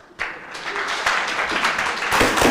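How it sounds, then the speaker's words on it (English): A classroom group breaks into applause after a brief quiet moment, a dense patter of many hands clapping steadily and close by for a couple of seconds. "Round of applause"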